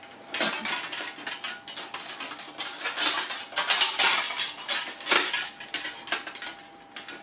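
Steel breastplate armor being strapped on produces continuous metallic clanking, rattling and scraping, close and fairly loud, with irregular bursts of clatter over about seven seconds and no talking.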